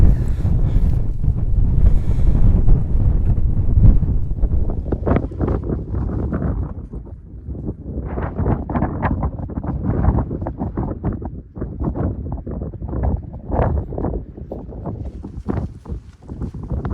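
Strong wind buffets a microphone outdoors near the Horse Stone, a heavy, continuous low roar with gusty surges that never lets up.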